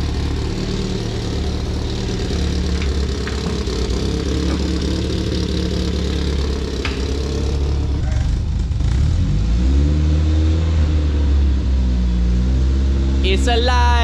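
An old car engine running on its first drive, idling steadily and loudly with a rough, noisy tone, then revving and changing pitch toward the end, with people talking faintly over it.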